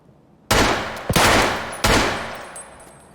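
Three loud, close gunshots in an Escape from Tarkov raid, the first two rapid and the third after a short pause, each ringing out with a decaying tail.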